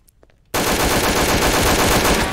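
Rapid automatic gunfire in Garry's Mod DarkRP bursts in loud and close after a brief quiet start, then hammers on continuously to the end.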